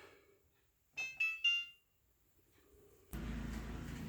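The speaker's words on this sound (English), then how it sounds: "the buzzer was going off for a few minutes" Three quick, high electronic beeps sound in a quiet room, followed by a sudden burst of steady noise.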